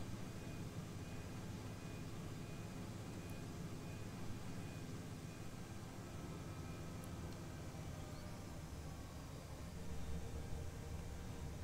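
A big city bus driving in the OMSI Bus Simulator 2 game: a steady, even engine drone and road rumble with no breaks, faint and continuous, no talking.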